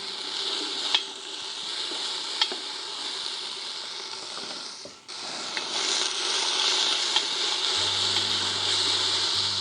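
Thickly sliced garlic fries in a pan, giving a continuous bright sizzle with a few sharp clicks and a brief dip midway as it is moved, then the crackle returns slightly louder.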